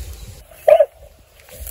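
A dog on a rural homestead gives one or two short, fairly loud barks near the microphone, then quiet outdoor ambience follows.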